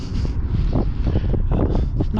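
Strong cold wind on a beach buffets the microphone with a constant low roar and gusty rumbling, with no one speaking.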